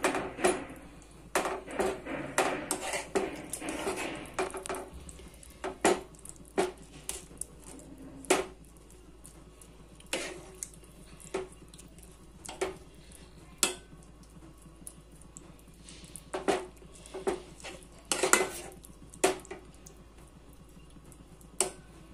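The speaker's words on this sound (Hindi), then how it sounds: "इन सब चीजों को अब हम मिक्स करेंगे अच्छे तरीके से" A spoon mixes tomato chaat ingredients in a dish, giving scattered soft clicks and taps against the bowl over a quiet background, irregular and close.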